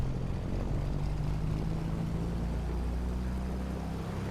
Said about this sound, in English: The engine is primed, and it should start by just pick it up a bit to give a little bit of throttle.